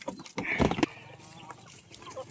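Farm chickens cluck and squawk close by in a short, busy burst, with faint talk mixed in.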